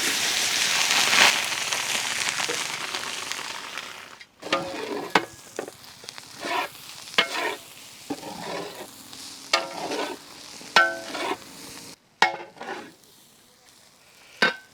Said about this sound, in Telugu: కరివేపాకు నూనెలో చక్కగా వేగాక దీంట్లోనే మనం రైస్ యాడ్ చేద్దాం